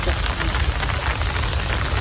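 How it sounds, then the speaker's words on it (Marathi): Steady rain falling at a creek where mud crabs are caught, a continuous close hiss of drops with a low rumbling wash underneath, with no other sounds standing out. "पाऊस चालू झालाय"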